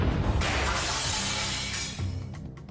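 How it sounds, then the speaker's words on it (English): A window shatters when a nearly 9-pound board fired from an air cannon at 22 miles per hour hits it, a loud burst of breaking glass followed by tinkling shards falling over a couple of seconds. "All that remains of this window are jagged, razor-sharp shards,"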